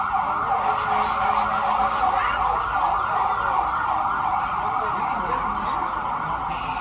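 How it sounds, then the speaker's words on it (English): Emergency vehicle sirens wail steadily and loudly outside a restaurant on a busy Friday night, with the continuous wavering tone dominating over faint room chatter and traffic. "We got a lot of sirens going through here tonight."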